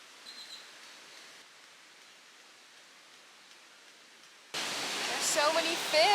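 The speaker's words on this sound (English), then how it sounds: "can see the beautiful waterfalls" Steady broadband rush of a waterfall in La Huasteca, Mexico, at first faint and distant, then swelling abruptly much louder and closer, with a few whistling tones mixed in.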